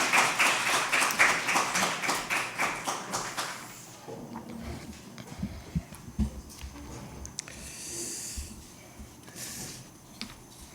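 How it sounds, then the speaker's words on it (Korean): A church congregation at a joint university worship service welcomes a missionary preacher with a short burst of rhythmic, even clapping in the first few seconds. Quieter scattered taps and shuffling sounds follow. "우리 박수로 환영하도록 하겠습니다."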